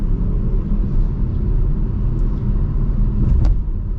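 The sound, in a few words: 2026 Chevy Trailblazer driving, engine rumble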